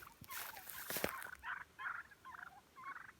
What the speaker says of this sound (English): It's turkeys, wild turkeys.